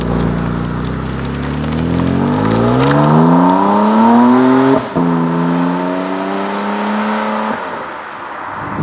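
A brand-new 300 kW car drives through a heavy rainstorm, its engine rising in pitch as it accelerates and then settling into a steady cruise over constant rain and road-spray hiss.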